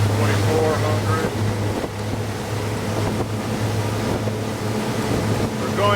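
A 2002 Sea Ray 320 Sundancer motorboat under throttle against an incoming tide, its engine a loud continuous droning hum mixed with rushing water and wind noise, with someone talking over it.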